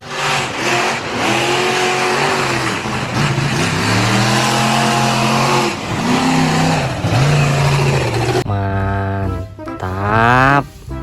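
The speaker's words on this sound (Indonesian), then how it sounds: "yang ini ada mobil monster off-road" A monster off-road car engine revs repeatedly, its pitch climbing and falling in several loud surges, with a sharper, higher whine at the end.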